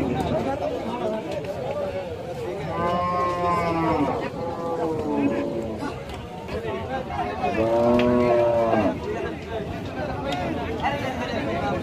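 Cattle at a cow market low in two long moos with clear harmonic calls, one near the start and another midway, over steady crowd chatter and talk of people bargaining nearby.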